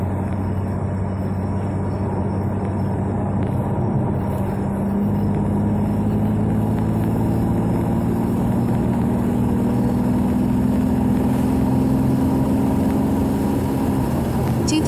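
Inside the cabin of a 2020 BMW M2 Competition on a night drive, the engine hums as a steady low drone that rises gradually in pitch with speed, continuous and even throughout.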